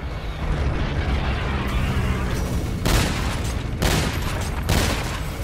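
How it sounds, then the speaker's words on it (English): Concussion grenades explode in Call of Duty Zombies as three loud, booming blasts about a second apart over a dense, constant roar of game noise. "Concussion grenades"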